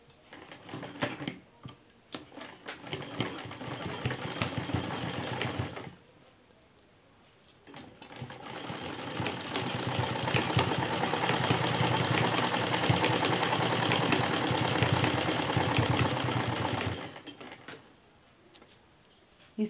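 A sewing machine stitches red and golden lace onto a kurti neckline, its motor whirring and rattling in a few short bursts and then one long, steady run before stopping.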